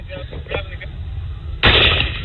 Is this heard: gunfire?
yes